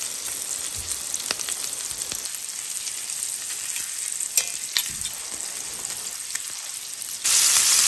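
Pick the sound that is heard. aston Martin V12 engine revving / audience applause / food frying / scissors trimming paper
food frying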